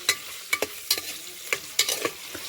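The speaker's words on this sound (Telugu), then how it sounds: "వేడెక్కుతుంది కాబట్టి ఇట్లా బాగా కలుపుకోవాలి" Tomato rice tempering is stirred in a pressure cooker, with a spoon scraping the metal in quick, uneven strokes over a soft background sizzle, close and clear.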